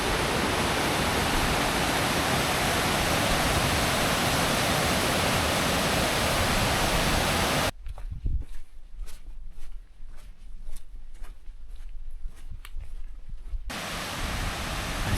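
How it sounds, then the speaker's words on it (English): Waterfall along the Timberline Trail on Mount Hood, a loud, steady rush of falling water that cuts to quieter ground with close footsteps for several seconds, then the roar returns. "Saw this waterfall from a distance, and I was hoping I'd get a closer look at it."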